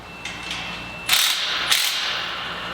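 A ratchet tightening bolts while a large bird cage is assembled, a few short sharp clicking bursts, close and fairly loud, with quieter clicks between them and no talk.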